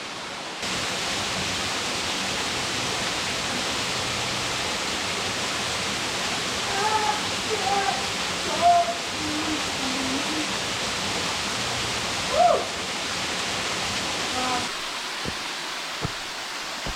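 A steady, broad roar of a tall waterfall in the woods fills the scene evenly throughout, with a few brief voices and faint clicks heard above it near the end.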